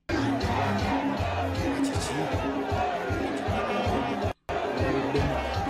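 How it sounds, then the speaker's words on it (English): Massive crowd at a Bobi Wine rally in Luweero, a dense steady roar of chatter and outdoor noise, with someone speaking over it and a brief dropout near the end. "There is what they call a crowd."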